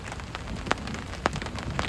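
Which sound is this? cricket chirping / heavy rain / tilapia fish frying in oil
heavy rain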